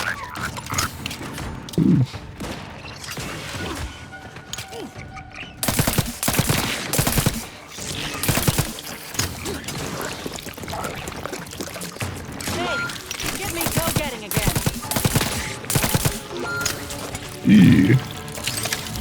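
Precision rifle gunfire in The Outer Worlds 2 on PC, heard as a scatter of sharp shots and bursts spread across the stretch, some close and loud, mixed with other game sounds and brief talk.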